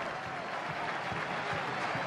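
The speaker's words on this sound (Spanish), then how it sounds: "Y ahora sí me parece que se va a ir aplaudido" Football stadium crowd at an Argentinos Juniors match against Newell's Old Boys in the Argentine championship applauds a departing player, a dense, steady wash of clapping and crowd noise throughout.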